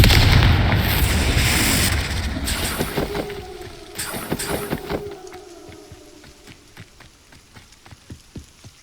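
Spell blasts and explosions boom in the Hogwarts Legacy video game, heavy and loud at first, then thinning into scattered sharp crackling bursts and softer pops as the noise dies away.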